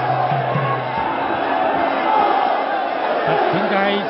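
A Muay Thai crowd roars and cheers steadily throughout a 116-pound bout between Petch Nong Bee Sor Damnoen and Kongmethee Kaewsamrit, a loud, dense wash of voices with a commentator talking over it.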